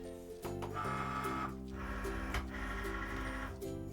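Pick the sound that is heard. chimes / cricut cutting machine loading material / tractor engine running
cricut cutting machine loading material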